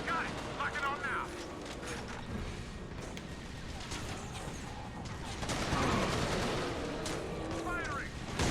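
Heavy weapon fire and explosive blasts from the sci-fi shooter Resistance 2 boom and rumble in a dense, continuous battle mix, with someone talking over the action.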